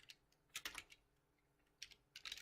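Computer keyboard typing while code is entered, heard as short clustered bursts of keystrokes separated by pauses, faint and close with no talking.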